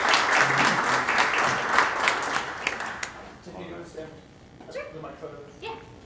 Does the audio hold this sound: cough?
no